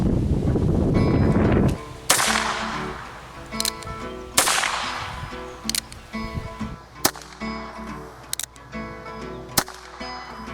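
Sharp gunshots from a Ruger Wrangler or Ruger Single Six revolver fired outdoors, loud and close, a string of separate reports spaced roughly a second or two apart with metallic clicks and handling noise between them.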